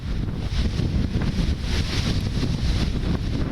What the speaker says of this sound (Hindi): मुंबई में हल्की बारिश के साथ तेज हवाएं फिलहाल चल रही हैं